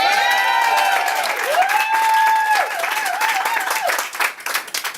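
A crowd claps and cheers loudly throughout, with a sustained, wavering whoop riding over the dense applause.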